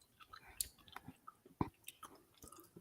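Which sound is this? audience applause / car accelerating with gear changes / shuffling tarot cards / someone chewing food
someone chewing food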